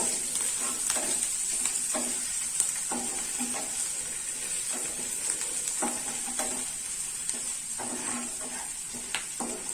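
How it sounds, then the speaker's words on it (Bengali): Ginger-garlic paste and onions stir-fry in a pan, with a steady bright sizzle throughout and repeated rhythmic scraping and tossing strokes of the spatula. "এবং পেঁয়াজের সাথে পুরোটা একসাথে ভালোভাবে টস হবে।"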